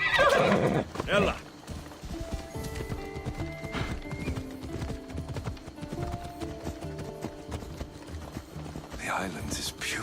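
Horse hooves gallop in Assassin's Creed Odyssey, a rhythmic clip-clop that carries on throughout, with neighs at the start and end and voices talking over it.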